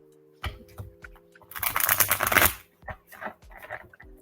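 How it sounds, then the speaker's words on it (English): A deck of tarot cards is shuffled in a dense burst of riffling and rustling lasting about a second, with lighter card taps and handling before and after, close and moderately loud. "All right, let me give it one more good shuffle."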